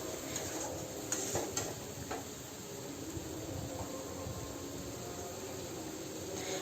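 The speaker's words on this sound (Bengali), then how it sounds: "দেখতে পাচ্ছেন মশলাটা কত সুন্দরভাবে কষানো হচ্ছে।" Spice paste with a little water sautés in a pan for a jackfruit and prawn curry, a faint low sizzle under a few soft clinks and scrapes of a spoon, with no voices.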